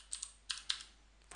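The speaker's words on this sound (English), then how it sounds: "Type your password," Short bursts of keystrokes on a computer keyboard while a password is typed, a few quick clicks clustered in two or three groups, close and clear with no voices.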